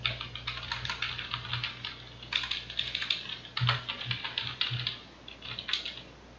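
Steady, close keystrokes on a computer keyboard as a word is typed into a QGIS field, clicking in uneven runs and small pauses for several seconds with no voices.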